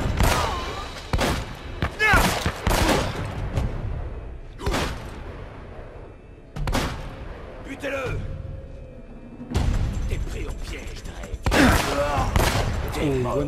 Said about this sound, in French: c'est fusil à pompe